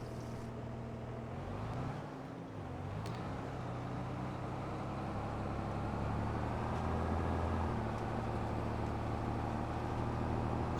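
A tractor in Farming Simulator 25 drives steadily, its engine a loud, continuous drone that holds throughout with slight shifts in pitch and no one talking.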